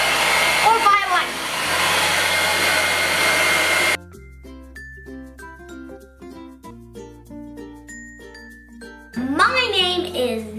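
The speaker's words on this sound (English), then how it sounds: "Or you can blow dry if you don't wanna wait." A hair dryer blowing on wet paint on a kids' Halloween bat stencil craft, a steady whooshing roar at the start that stops, giving way to soft chiming music, then the dryer roars back near the end.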